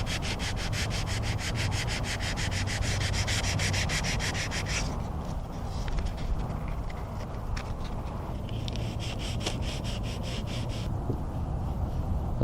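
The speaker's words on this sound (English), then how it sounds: "Lightly sand the body filler with 220 grit." Body filler on a car bumper being sanded with 220-grit paper: steady close rasping strokes, rhythmic at first and then slower and scratchier, with no talking.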